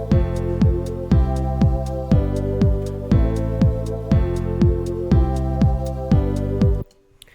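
A synth bass line programmed in Ableton Live 10 repeats a deep, rhythmic pattern of short plucked notes with a higher synth part above, steady and loud, then cuts off abruptly near the end.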